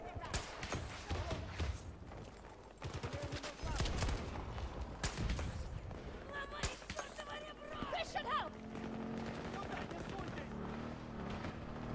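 Sniper rifle shots ring out during video game play, sharp cracks scattered among other gunfire, footsteps and game effects, with voices talking over the action.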